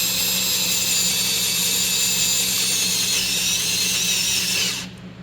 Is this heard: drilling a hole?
yes